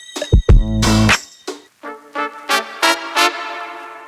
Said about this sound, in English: I'm pretty sure y'all are curious to know where I got these horns from. So these horns right here.